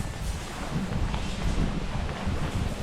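Steady gusting wind buffets the microphone, a continuous low rumble and roar with no pauses or other clear sounds.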